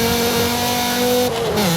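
A Volvo 850R engine revs loud and continuous in Forza Horizon 5, a steady rally-like drone that dips in pitch near the end.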